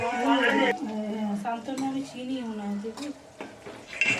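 Vegetables frying and being stirred in a pan for a lemon chicken dish, with soft sizzling and utensil scrapes and clinks against the pan, plus some rattling nearby.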